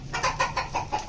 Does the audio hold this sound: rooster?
yes